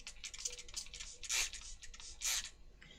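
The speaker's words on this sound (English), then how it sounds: "So all I've done is spritzed it up" A handheld spray bottle of water is spritzed in short hissing bursts, two strong sprays and several lighter puffs, close and quiet, with faint handling sounds between them.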